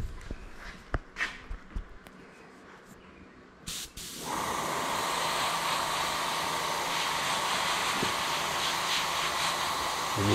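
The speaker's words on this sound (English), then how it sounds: "get my airbrush." After a few soft handling taps, an airbrush starts spraying paint onto a whitetail deer taxidermy nose, giving a continuous close hiss that holds steady to the end.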